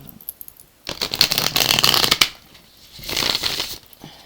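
A deck of playing cards is shuffled during a tarot reading, giving two bursts of crisp riffling and flapping, a long one followed by a shorter one after a brief pause, close and fairly loud with no talk.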